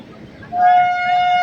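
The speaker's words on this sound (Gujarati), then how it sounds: "આ બેસવાની વ્યવસ્થા છે અને ટ્રેન ઉપડી" A train pulling out of Kayamkulam Junction sounds a brief toot: faint rumble and murmur first, then a loud, sustained horn tone rising in after half a second and holding to the end.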